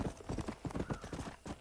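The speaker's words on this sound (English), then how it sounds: "Let's go and grab my horse." Horse in the video game Red Dead Redemption trots with rhythmic, close clip-clop hoofbeats, steady and moderately loud for under two seconds.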